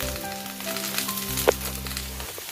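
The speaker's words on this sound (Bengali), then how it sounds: "এবার এই সমস্ত সবজিগুলোকে হালকা করে আমি একটু ভেজে নেব, মানে নাড়াচাড়া করে তেলের সাথে মিশিয়ে নেব।" Ridge gourd and mixed vegetables frying in hot oil for a Bengali vegetarian morich jhol, giving a steady low sizzle with a sharp crackle midway, no voices.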